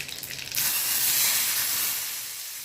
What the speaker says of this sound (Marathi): तेल गरम करून घेतलेलं आहे यामध्ये मोहरी जिरे घेता ही मस्त अशी फोडणी घालून घ्यायची